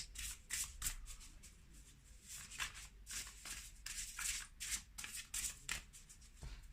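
Tarot cards being shuffled during a reading: soft, close riffling and sliding of the deck in quick repeated flurries, faint and continuous, with no talk.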